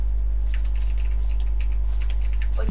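A computer keyboard and mouse click during a Minecraft session. The soft, irregular taps sit over a strong constant electrical hum, and no one talks.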